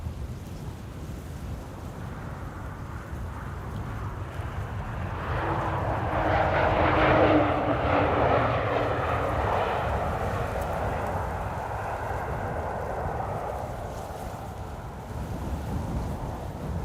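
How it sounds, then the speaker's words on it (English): Embraer 195 E2 airliner on approach at Amsterdam Schiphol, a broad jet engine roar swelling as it passes overhead at mid-distance, peaking near the middle and slowly fading, heard outdoors with no talk. "Floaty approach of an E2 Embraer 195 over here."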